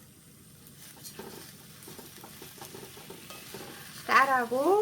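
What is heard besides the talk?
stir-frying rice with seasoned dried radish greens in perilla oil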